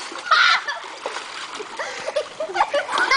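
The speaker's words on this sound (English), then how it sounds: "You just drop it in the water." An Xbox 360 console splashes into water, a sharp close splash followed by sloshing and dripping while young voices talk and shout over it.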